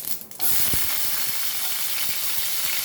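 Garlic hits hot oil with mustard seeds and jeera for a Goan tendli and black chana stir fry, breaking into a loud, continuous close sizzle with a few sharp pops and crackles.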